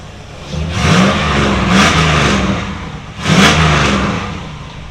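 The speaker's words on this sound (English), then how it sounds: "You give it a rev? We'll give it a rev." A 1973 LS-swapped four-wheel-drive truck engine revs up twice in strong surges, settling back to a rumbling idle between the bursts, loud and close.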